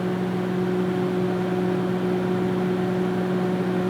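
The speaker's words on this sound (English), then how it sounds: "it runs at about 670 watts as the microwave is running" A Panasonic NN-SN67HS inverter microwave oven runs at low power with a steady, even electrical hum and whir, constant and moderately loud throughout, with no voices.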